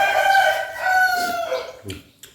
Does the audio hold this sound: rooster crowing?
yes